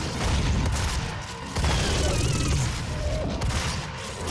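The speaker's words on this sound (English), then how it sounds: "I didn't think it'd make it explode" Dense, rumbling explosions and gunfire boom from the DOOM video game, loud and continuous with overlapping blasts and mechanical clatter throughout.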